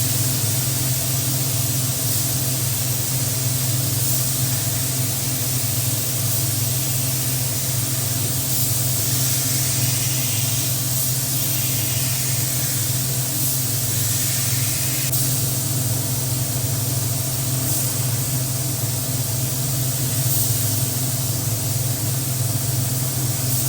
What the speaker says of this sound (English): going in to lay down the first coat of clear, which we loaded up with some blue pearlescence